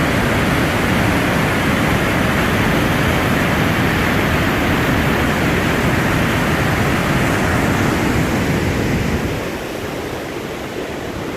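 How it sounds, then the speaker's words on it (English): Waterfalls rush through a deep gorge seen from a hiking trail near an old metal suspension bridge, a loud, steady broadband roar that drops slightly in level near the end. "Just mad waterfalls."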